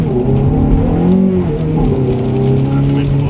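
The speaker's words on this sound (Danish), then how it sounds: "Den motoren lyder fantastisk" Ferrari 430 engine revving high and loud during a test drive, a steady sustained drone with rising and falling pitch, continuous throughout with talk over it.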